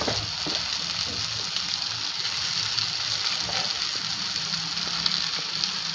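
Spices and turmeric frying in a covered pan while cooking poha, giving a steady, dense sizzle that runs unbroken and fairly loud throughout, with faint crackles and no voices.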